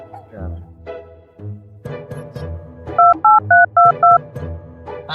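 A telephone number is dialled as five short, evenly spaced touch-tone beeps, loud and close, with talk before and after.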